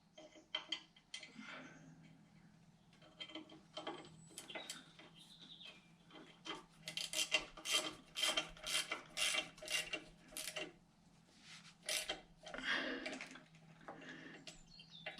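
Small bolts being snugged up on a Harley-Davidson crash bar during installation: a run of light metallic clicks and ratchet-like ticks, closer and busier in the middle of the clip, with no talking.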